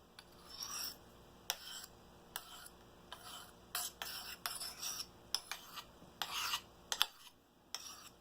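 A hand file sharpens a lopper blade in short, scraping back-and-forth strokes, faint and close, in an uneven rhythm with brief gaps.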